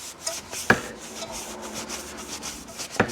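A rag or brush scrubs a motorcycle fork with Stoddard solvent, giving soft, rhythmic rubbing strokes nearby, with two sharper knocks.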